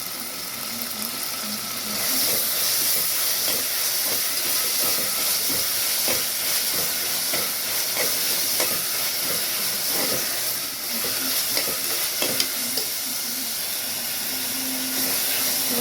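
Green chillies, a few curry leaves and two tomatoes fry in a pan and get stirred for a boti mittah salan, giving a constant loud hiss with scattered soft clicks from the stirring.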